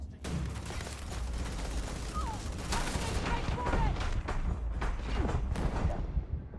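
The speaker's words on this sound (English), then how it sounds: "They can shoot me through the wall" Enemies in the video game Starfield fire steady bursts of gunfire through a wall, a dense, loud rattle of rapid shots that keeps going for several seconds with no break.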